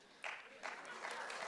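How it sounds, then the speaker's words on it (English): Debate audience applause in a hall, a short burst of scattered clapping, fairly faint and distant, swelling briefly as speech continues over it. "Please try and hold your applause so the folks at the back of the room can hear what the candidates are saying."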